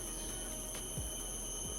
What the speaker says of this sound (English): I can hear the cicadas.